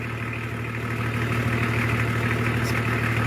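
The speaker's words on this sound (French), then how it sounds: "le moteur marche" BMW E36 325 TDS with the M51 turbodiesel engine idling steadily, a close, continuous low rumble with a diesel clatter and an even hum, no voices.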